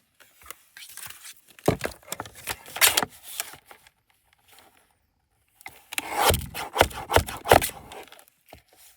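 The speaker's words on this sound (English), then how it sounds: "So let's go ahead and trim it." Paper being trimmed for a journal page: close, dry snipping and rustling cuts in two bursts separated by a quiet pause, with crisp scraping and crinkling of the sheet.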